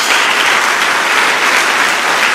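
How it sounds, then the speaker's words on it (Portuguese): A church congregation applauds in a dense, steady burst of clapping from many hands, loud and continuous throughout. "Dê uma salva de palmas a Jesus."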